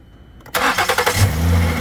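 A car engine cranking and firing up on a JF.EGWO 6000A jump starter battery pack after being completely dead: a few quick starter churns, then the engine catches and settles into a loud close idle.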